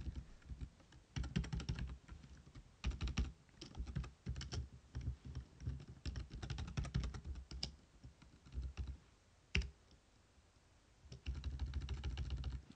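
Fingers type on a computer keyboard in quiet, irregular bursts of clicks and clatter, with brief pauses between runs of keystrokes and a sharper tap near the end.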